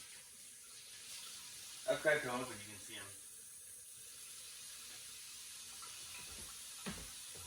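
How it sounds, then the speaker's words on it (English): Tap water runs steadily into a kitchen sink as a soft, continuous hiss that lasts the whole time, while a person speaks briefly over it in the middle. "Oh, I left the water running."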